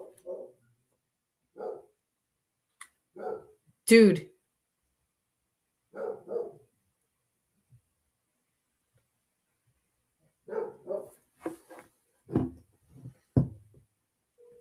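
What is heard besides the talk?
dogs barking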